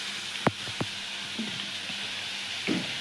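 Tempering sizzles in hot oil for an eggplant (brinjal) curry in a home kitchen, giving a faint, steady hiss with a few sharp clinks of a utensil against the pan.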